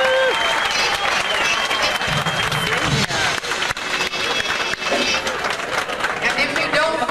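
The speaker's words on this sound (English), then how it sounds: "How about a nice round of applause for our senior division?" Audience applause for a senior dance division at an event, a steady dense wash of clapping filling the room with some voices mixed in throughout.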